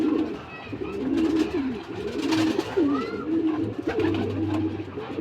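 Racing pigeons at a loft during a race in Nueva Vizcaya, cooing in repeated close, throaty rolling calls over a busy background with faint chirps and a little distant talk.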